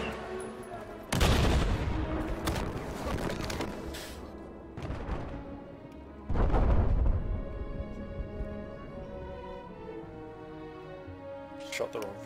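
Gunfire in a first-person shooter video game played on a resort map: two loud bursts of rapid shots and booms, each trailing off into a ringing tail, with no talking.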